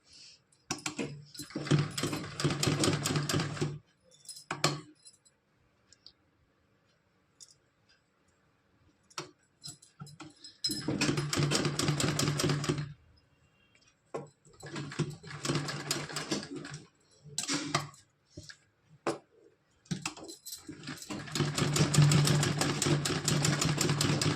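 Sewing machine running in bursts while stitching a small heart-pattern dress for a Kanha doll idol, with rapid mechanical chatter in several loud runs of a few seconds each, separated by quiet pauses and light handling clicks.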